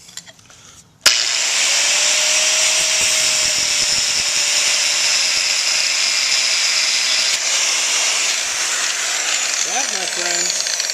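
A cutoff wheel grinds into metal on the rear end of a '55 Chevy truck, starting abruptly with a loud, sustained high-pitched whine and hiss that holds steady for about ten seconds before faltering near the end.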